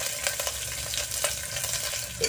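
Green chillies frying in a pan for Kerala egg curry, a steady crackling sizzle with soft stirring scrapes, close and continuous, no voices.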